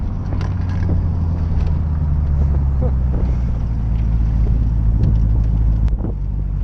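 A 1985 Corvette accelerating hard, heard as a loud, sustained low engine roar mixed with heavy wind rush from inside the moving car.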